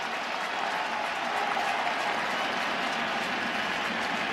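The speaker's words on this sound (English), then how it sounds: "Crowd urges him on as he deals 0-2." Baseball stadium crowd at a 2025 Blue Jays ALDS playoff game cheering, a dense steady roar and clapping from a large crowd that fills the whole stretch.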